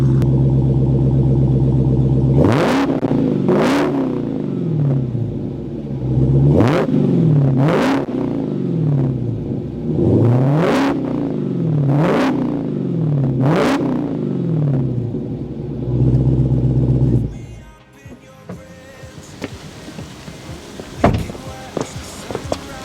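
Supercharged engine of a 2020 Dodge Challenger Hellcat Redeye revved hard about seven times in a row, each loud rising blip falling back to a rumbling idle, heard up close before it shuts off into quiet background noises.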